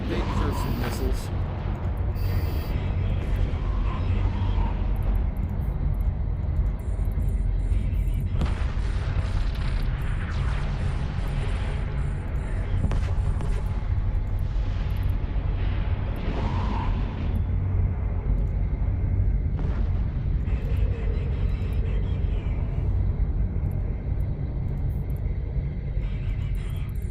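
Missiles fire and explode in the space game EVE Online, with a heavy continuous rumble and repeated booming bursts, while voices talk over the action.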